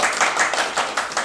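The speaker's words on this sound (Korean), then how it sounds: "박수를 맞아주면 감사하겠습니다." An audience at an art academy membership day in an arts centre gives a short burst of clapping, close and fairly loud, with individual claps clearly audible and no voices.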